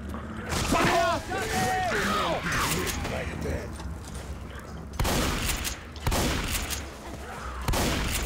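Shotgun blasts and pump-action mechanisms in the Left 4 Dead 2 video game, played with a Zelda-themed Death Mountain mod, crack out in several sharp bursts amid game noise, with someone talking over the early part.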